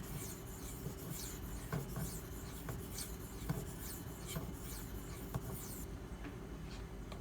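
Maxamet steel knife blade stroked across a 1000 grit Nano Hone stone with a little slurry, giving a steady, close, soft rasping with repeated faint strokes and no talk.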